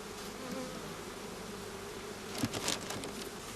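Honey bees buzz in a steady, dense drone as two colonies are united over newspaper in a brood box, with a brief rustle and patter near the end.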